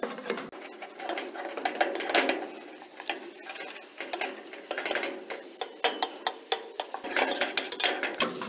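Flour for cream of mushroom soup being stirred and cooked to a blonde color in a pan with sauteed mushrooms, producing a steady soft scraping and sizzle with quick utensil taps, close and fairly quiet.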